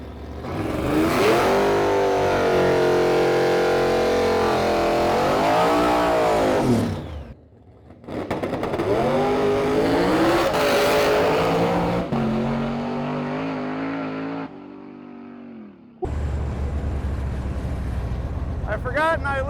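A drag race car launches hard and accelerates down the track, its engine note climbing through several gear shifts with brief breaks between them, loud and close.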